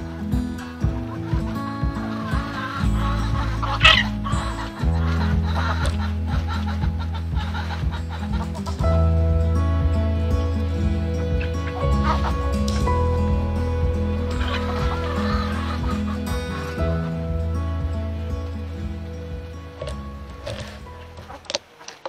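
Chickens and young chicks cluck, cheep and chatter continuously at close range, with a busy mix of low clucks and higher peeps and trills overlapping for over twenty seconds.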